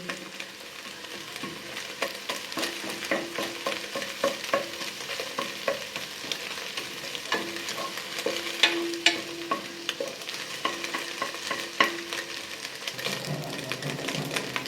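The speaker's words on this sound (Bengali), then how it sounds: "ডিমটা ঝরঝরা করে ভেজে নেব।" Scrambled egg fries in a pan, a continuous sizzle broken by rapid scraping and tapping strokes as it is stirred throughout, close and steady.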